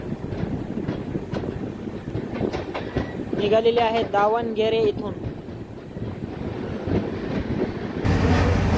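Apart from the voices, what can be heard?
Karnataka Sampark Kranti Express train running on rails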